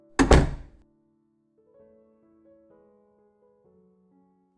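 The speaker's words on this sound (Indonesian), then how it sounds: "Pintu kamar ditutup dengan kencang" A bedroom door slams shut with one heavy, booming thud at the start, followed by faint, quiet soft tones in near silence.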